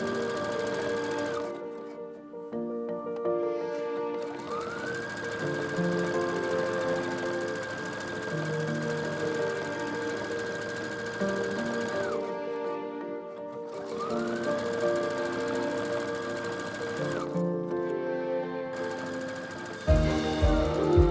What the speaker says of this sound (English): Next, I fasten the heel interfacing with some decorative top stitching.